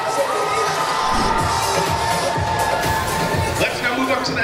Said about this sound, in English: Let's give them a round of applause, your national parade champion, Lowe, Gabriel Lowe.